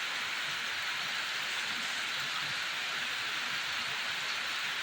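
Rain falls steadily in an even, hissing wash of drops on surfaces, constant and moderately soft throughout with no voices.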